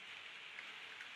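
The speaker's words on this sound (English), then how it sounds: "you can hear the rain in the background as well" Steady soft rain falls outside, a faint even hiss running under a quiet indoor room with no voices.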